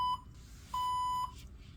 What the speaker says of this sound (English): The blood flow rate has exceeded, so our alarm has alerted